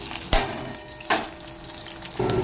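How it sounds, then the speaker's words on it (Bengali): Onions go into hot oil already sizzling with whole cumin, dried red chillies, bay leaves and whole garam masala for a mutton curry, with a sharp hiss and stirring clatter at three points over a steady fry. "এবার পেঁয়াজগুলো দিয়ে ভেজে নেবো"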